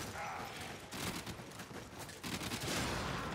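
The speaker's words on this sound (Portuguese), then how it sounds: "Olha o meu robozinho atirando ali, ó." A small robot companion fires its guns in the Warframe shooter game, rapid bursts of gunfire rolling on continuously at low level, with a brief swell midway and again near the end.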